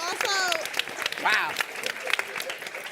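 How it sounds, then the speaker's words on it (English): Audience applause at a live podcast recording, a crowd clapping with cheers and whoops rising over it. "we want to give you guys a round of applause"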